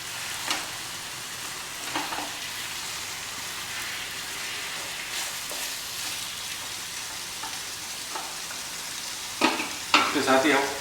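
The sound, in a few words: mutton keema frying with spices, being stirred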